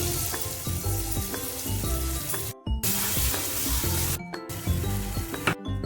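Homemade ground masala sizzles as it is sautéed in oil for a Malvani prawn curry, a loud, dense crackling fry close up with occasional stirring clinks and brief gaps, no talking.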